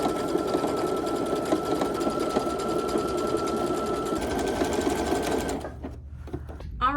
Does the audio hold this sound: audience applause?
no